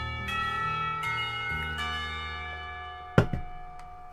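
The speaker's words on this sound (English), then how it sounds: "Somewhere the school bells ring the last call of the day." Layered school bells ring out in Katawa Shoujo, sustained ringing tones with several strikes, steady and moderately loud, followed by a sharp knock near the end.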